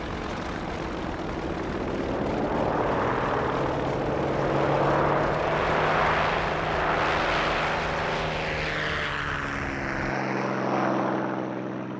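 World War II propeller aircraft in a carrier strike drone overhead, a loud, sustained engine roar that swells and fades in slow waves as the planes fly past, with no voices.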